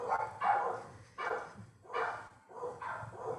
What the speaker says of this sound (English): about the dogs who are invading the sound